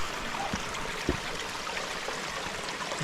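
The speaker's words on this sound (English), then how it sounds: "It's a lovely patch of woodland with all these little streams." A small woodland stream on Dartmoor runs steadily nearby, a continuous soft rushing trickle with faint gurgles and no voices.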